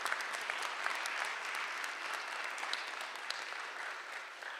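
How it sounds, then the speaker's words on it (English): Audience at the UpScale 2020 conference applauding its speakers, a steady, fairly soft wash of clapping from a crowd that fills the whole stretch without talk. "Please, let's give a round of applause for all of our UpScale speakers tonight."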